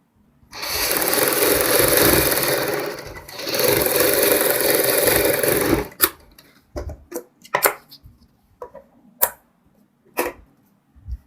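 Sewing machine stitching right along the edge of buckram, used for a kurti front neck, runs in two steady, loud bursts, then gives way to scattered clicks and knocks of handling.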